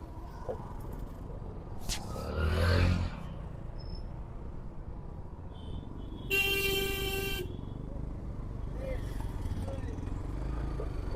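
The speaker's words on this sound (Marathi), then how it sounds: "हे काय बघू शकता तुम्ही एवढी ट्रॅफिक इथे" Heavy road traffic of cars, scooters and bikes near the foot of Ajoba mountain during Mahashivratri, with a long, loud car horn blast standing out over a constant engine rumble, other faint honks around and people talking nearby.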